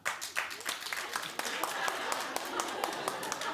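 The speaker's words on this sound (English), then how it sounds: "Well, clap if you have it." A handful of studio audience members on a daytime talk show clap sparsely and unevenly, individual claps standing out distinctly, with a voice talking over them.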